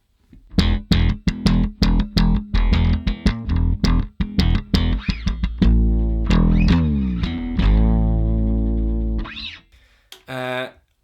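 Alembic 8-string fretless Series II bass through effects, distorted and chorused, with a quick string of plucked attacks giving way to long sustained, sliding fretless notes, loud and close, ending in a few short bursts.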